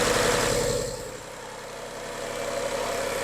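A Volkswagen Polo Dune's engine starts after a cambelt and water pump replacement and runs at a steady idle, a low continuous rumble with a slight dip in level before settling back to an even hum.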